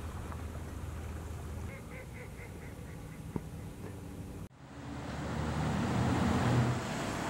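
Ducks call in a series of short quacks over steady traffic and wind in a sheltered harbor in Midcoast Maine in winter, where long-tailed ducks and common eiders gather close to shore; the quacks are faint and distant.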